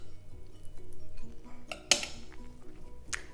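A metal spoon scrapes and clinks against a pot while scooping steaming yellow rice, a few soft close scoops with one sharp clink partway through.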